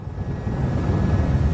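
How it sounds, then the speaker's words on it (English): A helicopter comes in to land at a Tokyo heliport, its rotors and engine making a loud, steady low rumbling drone that fills the whole stretch without any talking. "helicopter is given the all-clear to land"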